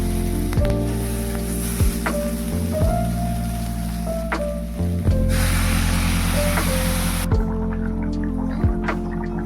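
Potatoes frying in a pan with chili, salt, turmeric and spices give a steady hiss of hot oil, with a spoon knocking against the pan every second or two.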